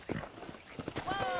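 Horse hooves clip-clop in a quick rhythm in the Red Dead Redemption video game, a brief patter of steps with a horse whinny near the end, heard under a man's speech.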